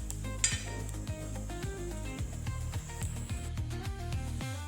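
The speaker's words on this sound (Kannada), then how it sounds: "ಡ್ರೈ ಫಿಶನ್ನು ಫ್ರೈ ಮಾಡ್ಕೊಳ್ಳೋಣ. ಚೆನ್ನಾಗಿ ಫ್ರೈ ಮಾಡ್ಕೋಬೇಕು." Dry fish, washed and dried beforehand, fries in a pan with a steady soft sizzle beneath repeated rhythmic scrapes and clinks of a spatula stirring it.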